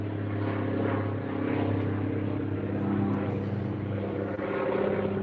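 Steady broadband roar of a jet aircraft passing overhead outdoors, a continuous loud drone with a low hum that swells and eases slightly, no speech.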